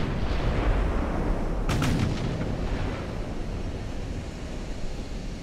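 Naval 12-inch guns fire in Ultimate Admiral: Dreadnoughts during a battlecruiser versus dreadnought fight: a sharp report cuts through a constant deep, rumbling sea-battle roar and fades into the ongoing din.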